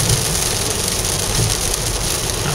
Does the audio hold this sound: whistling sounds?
no